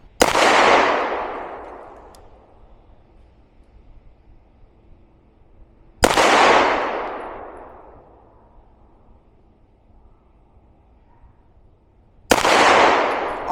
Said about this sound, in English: Let's see what that looks like in live fire.